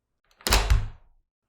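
A door shuts and latches with a single muffled thunk and a short rattle, close by and alone in a quiet room.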